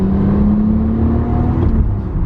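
A turbocharged Mitsubishi Evo pulls hard in third gear at about three-quarter throttle, its engine droning loud and close with a steadily rising whine from start to finish.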